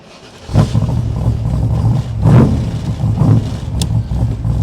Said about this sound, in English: here is our semi-cold start because we did bring the car outside